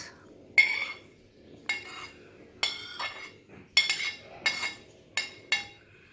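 Chopped onion filling is mixed in a bowl, giving about eight separate clinks and scrapes of a spoon against the bowl at irregular intervals, close and fairly quiet with no talking.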